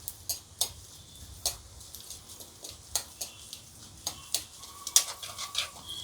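Ingredients fry in a pan for egg curry, with soft sizzling under repeated sharp ticks and clinks of a utensil stirring against the pan, steady and close.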